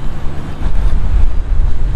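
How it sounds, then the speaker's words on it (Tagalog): Strong wind in Dubai buffets the microphone in loud, gusty low rumbles throughout the short stretch, with no talking. "malakas yung hangin na naman"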